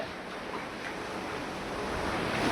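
A dense, even hiss of heavy rain in Naroda, Ahmedabad fills the scene, growing slightly louder toward the end, with no voices.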